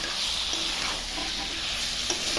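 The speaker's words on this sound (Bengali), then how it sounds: "এখন মশলা দিয়ে কষাবো মাংসটা" Meat stir-frying with spices in a pan, a steady dense sizzle with scraping stirring throughout, close and continuous with no voices.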